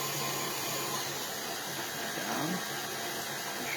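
An electric mixer creams cookie dough, giving a steady whirring hum that runs unbroken for several seconds at moderate volume, with no speech.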